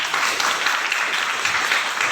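Students in a classroom give a brief burst of dense, even applause, continuous and close, with no voices over it.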